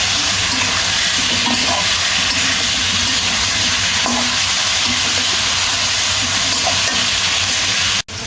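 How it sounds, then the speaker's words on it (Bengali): Fried meat stir-fried with ground spice paste in a pan, a loud, dense, continuous sizzle and hiss close up, with faint scraping from the utensil now and then and a sudden cut at the end. "এবার মাংসটা আমি ভালোভাবে কষাই নেব"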